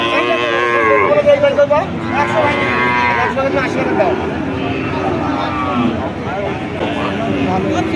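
Dairy cows with calves at a rural cattle market moo loudly and repeatedly at close range, with several drawn-out calls overlapping. People talk throughout the lowing.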